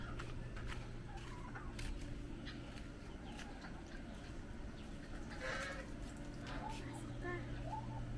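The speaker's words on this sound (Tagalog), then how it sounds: "ito na ang aming mga goose." Geese on a backyard farm honk and call in short bursts over steady outdoor background noise, with people talking nearby.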